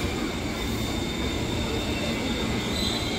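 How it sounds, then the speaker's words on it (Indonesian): A KRL commuter train rumbles at Bogor station in Indonesia, a continuous loud rolling roar with faint high squeal, steady throughout and close by. "ini ada KRL di jalur 1 arah ke Paledang"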